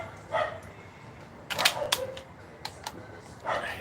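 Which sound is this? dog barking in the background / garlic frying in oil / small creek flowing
dog barking in the background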